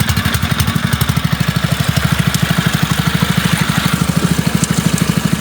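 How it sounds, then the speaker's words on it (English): A river gold dredge engine in New Zealand runs steadily at close range, a loud rapid idling thrum with an even mechanical pulse throughout and no voices. "We'll just turn it back on, clean the box, and the vibrations from the engine will help settle the gold"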